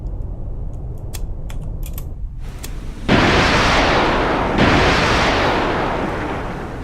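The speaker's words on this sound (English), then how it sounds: "you just watched me fire 2 missiles" Two missiles launch one after another, each a loud, sudden broadband blast-whoosh about a second and a half apart. Faint tapping clicks come before them, and the roar slowly fades afterward.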